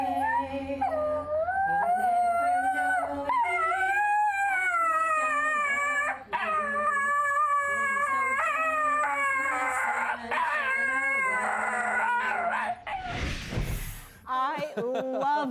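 A dog howls and whimpers in long wavering tones while a person sings along loudly over it, ending in a noisy burst near the close.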